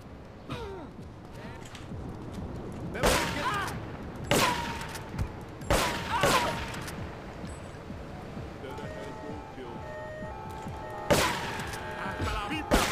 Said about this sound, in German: Eine andere Waffe, eine automatische.